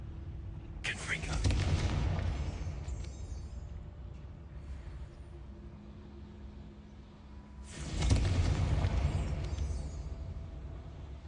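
Confringo blasting curse explosions in the Hogwarts Legacy video game: two loud, sudden blasts several seconds apart, each followed by a long rumbling roar that slowly fades.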